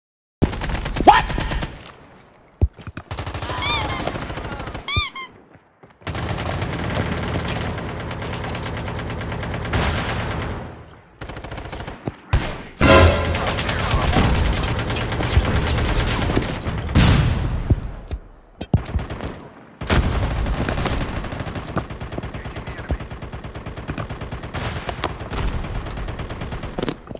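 Gunfire rattles in the mobile battle royale game Call of Duty Mobile, played indoors, with loud bursts of automatic fire and short gaps between them, followed by sustained rattling and mechanical clatter.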